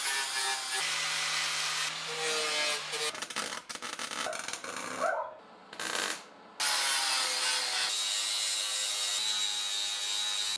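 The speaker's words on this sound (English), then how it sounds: "that's all I'm going to trim out of this plate just to make it suit your body" A metal plate on a 30-year-old GQ Patrol 4WD is trimmed with a power tool, giving harsh close grinding and cutting in bursts with short pauses between passes.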